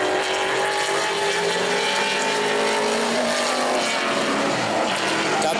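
Pro late model race car at New Smyrna running a qualifying lap, its engine roaring loud and steady throughout, with shifting pitch as it passes along the track.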